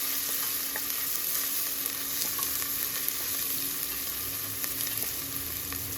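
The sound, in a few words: shallots frying in oil with mustard seeds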